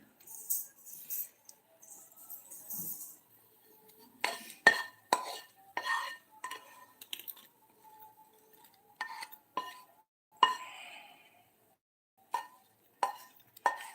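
Vigorous stirring and scraping in a pan while sautéing at home, with a run of sharp metallic clinks and scrapes, some clustered and some spaced out, near and moderately loud, after a quiet stretch at the start.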